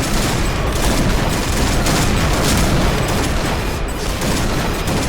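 Heavy sniper rifle fire from a Barrett in the shooter game Point Blank, a dense continuous barrage of loud booming shots and gunfire without a break, with no speech.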